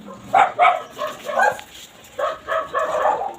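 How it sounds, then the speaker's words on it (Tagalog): Several dogs bark in short bursts, some close and loud, with yips mixed in and brief pauses between the barks. "There's a lot of dog over here."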